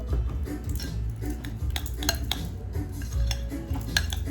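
A tablespoon scrapes and clinks against a bowl, stirring mayonnaise into a slaw in a run of short metallic taps and scrapes, close and fairly steady, with no talking.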